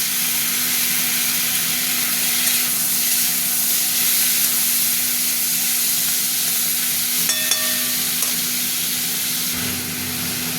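Tomatoes dropped into hot oil in a pan with fried potatoes, producing a loud, steady sizzle that hisses continuously from start to finish.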